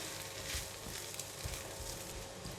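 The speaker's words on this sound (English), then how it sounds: "I'm going to switch off the heat and put in the spring onions. Just give it a mix," Soft sizzle of prawn fried rice with spring onions being stirred in a pan after the heat is switched off, faint and steady with a few light scrapes, no voices.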